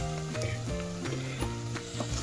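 Sesame seeds are stirred into a hot coconut and jaggery mixture in a pot for coconut naru. Soft scraping and sizzling sounds run throughout, with a faint tonal hum and music-like pitched lines underneath.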